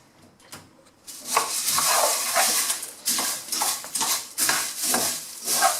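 A spoon stirs cornflakes into melted chocolate in a bowl, producing close crunchy scraping and clinking strokes in an uneven rhythm after a quiet start.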